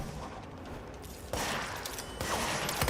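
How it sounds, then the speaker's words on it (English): Gunfire rings out in the video game Control, with rapid, dense bursts of shots that grow louder in two surges and carry on without talk. "If I could land my shots,"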